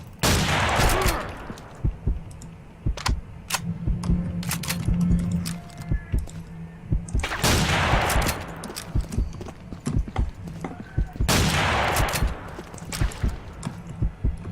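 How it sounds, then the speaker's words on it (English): Single gunshots crack out in quick bursts in the online shooter Combat Arms, sharp repeated reports with a few louder clustered volleys and short pauses between, fairly close. "I'm shooting singles, just nice and fast."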